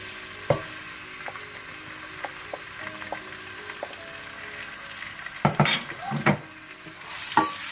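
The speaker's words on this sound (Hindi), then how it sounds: "इसमें आप साबुत जीरा डाल दें। साथ ही इसमें प्याज डाल दें कटे हुए।" Whole cumin seeds and chopped onion fry in oil for a Pakistani daal mash, a soft hiss with scattered spoon taps and a few louder scraping stirs near the end.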